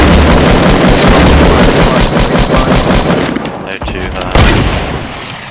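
Loud, rapid automatic fire from an assault rifle in the video game Fortnite rattles on for several seconds, then breaks into a few final bursts, with players talking over it.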